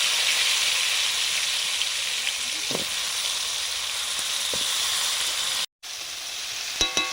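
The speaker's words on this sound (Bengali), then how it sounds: "একটু আলুগুলো ভেজে নিচ্ছি।" Potatoes and drumstick pieces frying in oil in a pan after fish, a continuous loud sizzle with occasional stirring clicks, briefly dropping out near the end before resuming.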